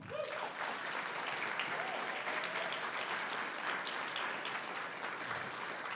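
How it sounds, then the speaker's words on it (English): An audience at a Spokane city council candidates' climate change forum applauds as candidates are welcomed to the stage, with steady, even clapping from a sizable crowd filling the room at a distance. "please join me in welcoming them with warm applause"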